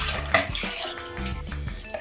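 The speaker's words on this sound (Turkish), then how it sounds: "şimdi 3-4 su bardağı su ekliyorum ve karıştırıyorum" Water from a glass poured into a cooking pot with salt and green pepper while making village tarhana, a steady close splashing pour with faint clinks of pots.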